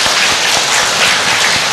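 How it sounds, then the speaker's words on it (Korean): A church congregation applauding its choir after a Sunday service, dense continuous clapping from many hands, loud and filling the room throughout. "우리 찬양대, 우리 한번 박수하십시다"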